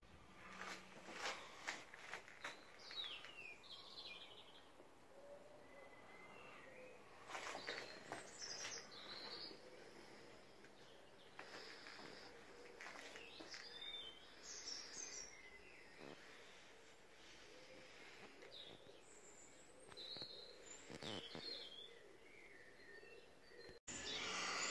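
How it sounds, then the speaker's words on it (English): Birds sing in a garden at dawn on a cool early morning, with a steady layered chorus of chirps and calls running throughout at close to middle distance, plus a few soft rustles. "The birds are in full voice."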